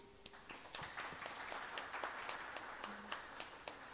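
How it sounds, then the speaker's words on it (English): An audience at a literature festival talk on video games claps for a speaker, a steady patter of many hands with sharper individual claps standing out, fairly distant in a large room. "Please give a big clap to him."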